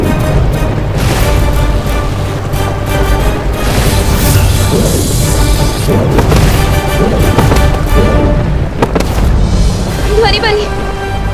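Explosions rumble in a scene of the TV show Baalveer Returns, deep booms and crashes running under loud music and voices throughout.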